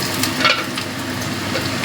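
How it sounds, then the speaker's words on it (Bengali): Cut potatoes dropped into hot oil in a home kitchen, frying with a close, steady sizzle and a brief louder burst of crackling near the start, then continuing evenly without talk. "তেলটা আমার গরম হয়ে গেছে, এবার দিয়ে দিচ্ছি কেটে রাখা আলুগুলো"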